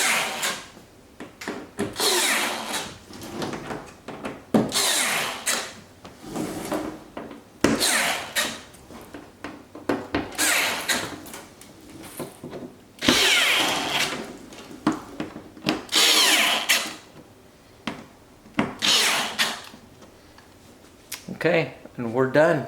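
A power drill tightens screws on a C8 Corvette front splitter in repeated short whirring bursts, close and fairly loud, with brief pauses between screws.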